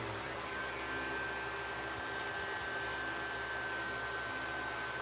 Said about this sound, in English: All this is just a little green polishing compound, jeweler's rouge, whatever you want to call it, and just a little Dremel